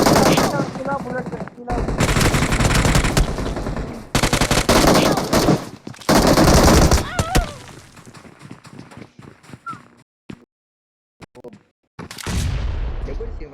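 UMP submachine gun fire in a video game comes in loud rapid automatic bursts separated by brief pauses and short silences, with faint talk between the volleys.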